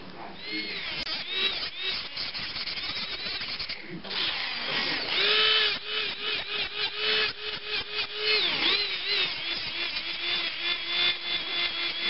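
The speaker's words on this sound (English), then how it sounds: "So I'm just going to start by drilling." An electric nail drill files acrylic off fingernails during a backfill, a close high whirring whine that shifts pitch and pauses briefly before grinding on steadily.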